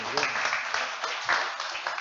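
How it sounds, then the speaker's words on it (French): A café audience at a football supporters' club gathering claps for a guest, a short burst of brisk applause from a modest crowd with voices mixed in beneath the clapping. "Et je vous demande d'applaudir bien fort, s'il vous plaît, monsieur Jean-Philippe Rohr"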